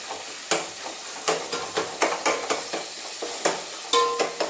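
Onions sautéing in a pan for chicken kulambu, a sizzle broken by repeated sharp scraping strokes of a spoon stirring at a brisk, uneven rhythm, close and fairly loud with no voices.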